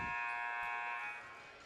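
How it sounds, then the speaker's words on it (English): A basketball arena buzzer at a Kentucky boys high school game sounds one loud, steady electronic blare before the opening tip. It holds for about a second and then fades under faint crowd murmur. "There's the buzzer."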